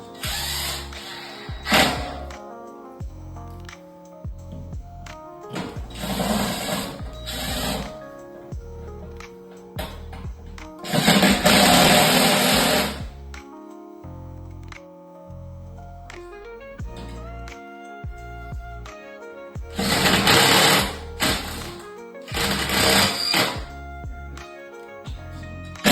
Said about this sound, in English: So we'll take the screws back in